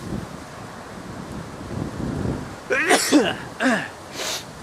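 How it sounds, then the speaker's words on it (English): A single sharp sneeze bursts out near the microphone after some wind noise, followed by a brief vocal sound. "Oh, I gotta sneeze."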